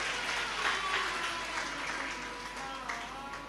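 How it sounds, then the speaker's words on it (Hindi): Sustained applause from a large audience at a live Shiva Mahapuran religious katha, a dense wash of clapping that continues steadily throughout with faint voices mixed in. "एक बार उनके लिए भी जोरदार ताली बजाकर साधुवाद है।"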